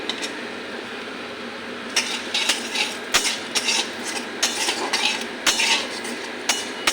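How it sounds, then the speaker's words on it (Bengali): Whole cardamom, cinnamon, cumin and fenugreek frying in a pan, a soft sizzle under repeated scraping and clinking strokes of a spatula against the metal pan, close and rhythmic. "সবগুলা একটু ভাজা করে নিয়ে"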